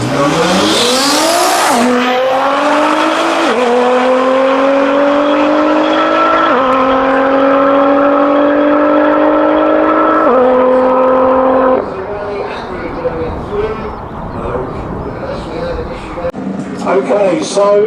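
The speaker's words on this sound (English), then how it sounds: "Street car shootout, round one. Andrew Foley in the GTR and Harry Yates in" A Nissan GTR and a BMW E92 street car launch side by side in a no-prep drag race, engines revving hard and climbing through several gear changes before fading, with a commentator talking over the roar.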